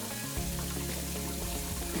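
Water running from a faucet into a sample bottle during a well water quality inspection, a steady close hiss and splash with shifting tone as the bottle fills, no talking.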